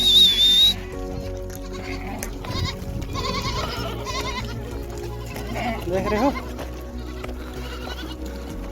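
Goats bleat repeatedly while grazing in Saudi Arabia, a herd of livestock calling out in several wavering cries near the listener, with someone talking over them and steady background noise.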